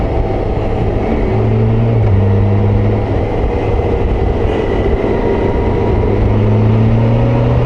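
A 2022 BMW K1600GT heavy touring motorcycle rides along the road with a loud, continuous engine drone whose pitch shifts up and down, under steady wind roar.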